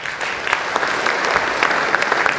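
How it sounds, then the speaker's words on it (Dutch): Steady audience applause at a book presentation marking 90 years of a Limburg dialect society, greeting a historian; dense, continuous clapping from a seated crowd with no talk. "Maak ik voor u een groot applaus voor de historicus Luc Wolters."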